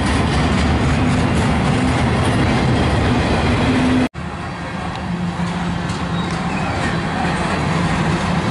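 A Norfolk Southern freight train rolls slowly past near Austell and Mableton, Georgia, a loud, steady rumble of wheels and cars that drops out for an instant midway, then carries on as before.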